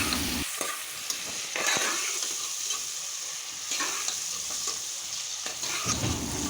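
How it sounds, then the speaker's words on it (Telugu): Onions frying in oil in a pan while goat head curry is being prepared: a steady, fairly close sizzle with occasional stirring scrapes and crackles, with no talking. "ఆ ఉల్లిపాయలు చక్కగా ఆ నూనెలో మనకి ట్రాన్స్పరెంట్ కలర్ వచ్చే వరకు చక్కగా మగ్గ పెట్టుకుందాం"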